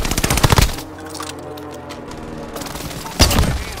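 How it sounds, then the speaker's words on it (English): Rapid machine-gun fire during an incoming airstrike in Call of Duty: Modern Warfare, a loud sustained burst at the start, a lull with a low rumble, then another dense volley near the end. "An airstrike incoming"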